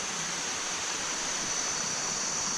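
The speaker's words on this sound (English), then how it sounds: "It's like a little waterfall cascading down." A small waterfall cascades in a garden in Chiang Mai, a steady, even hiss of falling water, close and continuous with no voices.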